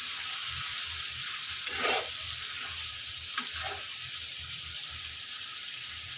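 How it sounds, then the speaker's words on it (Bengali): Chopped potatoes drop into sizzling fried spice paste, a soft steady hiss of frying with a couple of small clatters and stirring scrapes, faint and close, no talk. "এখন আলুগুলো কুচানো ছিল সেগুলো এখন দিয়ে দিচ্ছি মশলার ভিতরে"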